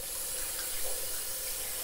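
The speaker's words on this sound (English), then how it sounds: "I water it from the stick because I want the stick to be wet to try to attract the stems to the stick." Water poured from a stick into a potted pothos plant makes a continuous soft hiss and trickle, steady and close, with no voices.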